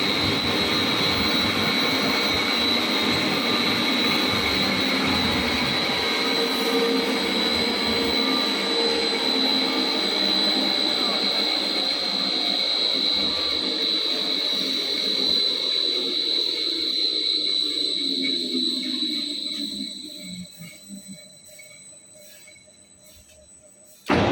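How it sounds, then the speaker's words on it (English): A high-speed straight line wire drawing machine runs on the ground without fixing, giving a loud, steady whining hum with a high tone that holds and then winds down and fades near the end. "We just put it on the ground, and we have no fix on it. But it still draws the wire in a good situation."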